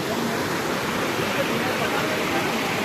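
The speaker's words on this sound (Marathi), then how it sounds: "हे बघा इथे समोरच पाण्याचा ओढा आहे बघू शकता तुम्ही" Flowing water stream near Devkund waterfall: a steady, dense rush of water close by, filling the whole clip with no breaks and no voices.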